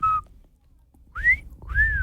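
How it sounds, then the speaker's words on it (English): A person whistles three clear tonal notes: a short steady one, a gap of quiet, then two rising-and-falling swoops, close and fairly loud with no talking. "We just want to know, can you whistle?"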